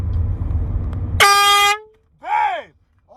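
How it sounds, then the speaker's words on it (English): A prank air horn gives one sudden, loud, sustained blast that cuts off, followed by a startled voice nearby. "a loud and classic one, the air horn pranks"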